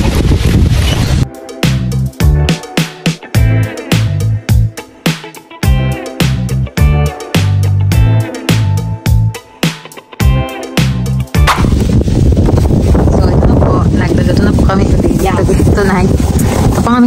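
Loud, rhythmic music-like sound with pauses gives way to a steady, roaring gust of strong wind buffeting the microphone for the last few seconds, in Prince Edward County, Canada.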